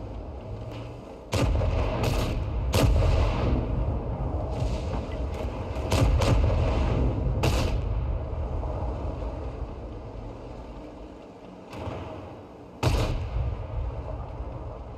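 Tank guns in the video game World of Tanks fire about half a dozen sharp, booming shots at irregular intervals over a continuous low engine rumble and battlefield noise.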